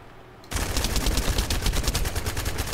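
Sustained automatic gunfire from a weapon held on full fire in The First Descendant, starting abruptly and continuing as a dense, steady stream of rapid shots, loud and up close.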